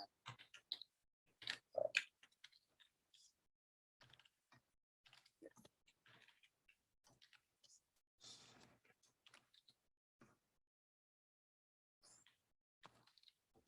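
Computer keyboard typing a command in a Linux terminal, with quiet, sparse, irregular key clicks in short bursts separated by silence.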